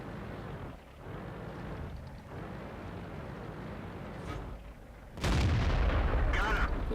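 A tank cannon fires in a tank video game during a duel with an M6, a loud broadband boom about two-thirds through, sustained and heavy after a steady rumbling background of engine and ambience.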